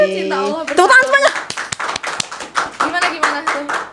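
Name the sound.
people clapping hands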